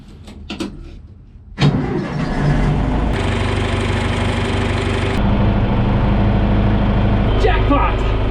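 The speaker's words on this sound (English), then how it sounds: "Hopefully this thing will start. This is an old John Deere 310A, 1982." An old 1982 John Deere 310A backhoe diesel cranks for a second, then catches and settles into a loud, steady rumbling idle that runs on for several seconds, nearby and in cold weather.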